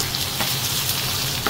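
Ginger and onion sautéing in a pan for a home-cooked patatim, a steady loud sizzle and crackle of frying with occasional stirring scrapes, no talking.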